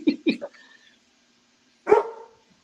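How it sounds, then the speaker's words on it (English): A dog gives a quick pair of sharp, close barks, then a short yip a moment later, with silence between them. "He has a dog too, apparently."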